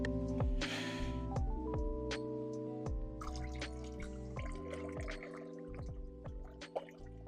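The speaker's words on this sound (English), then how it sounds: "let's do a water change and wipe the front of the glass." Water drips and trickles during a water change on a betta fish aquarium, giving repeated small plinks over a steady tonal background with no talking.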